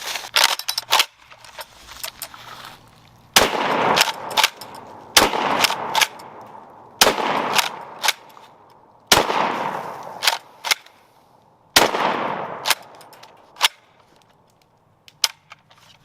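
UTS-15 and M&P 12 pump shotguns fire roughly a dozen loud, sharp blasts outdoors at irregular intervals, each shot followed by a decaying rumble and short pauses between bursts.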